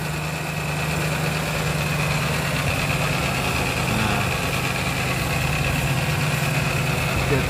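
A 1990 Toyota Starlet SE with a 1.3 engine idles steadily, a close, even mechanical drone with a constant low hum and no change in pace.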